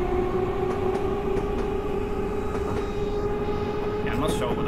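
A London Underground District Line train in a simulator pulls away from a station with a steady low rumble and a sustained electric motor whine, plus a brief rising squeal near the end.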